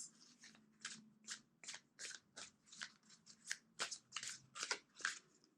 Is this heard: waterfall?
no